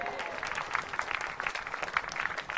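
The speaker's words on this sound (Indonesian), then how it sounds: "Tepuk tangan ya." A stand-up comedy audience in Indonesia breaks into applause, dense steady clapping that fills the short stretch at moderate loudness.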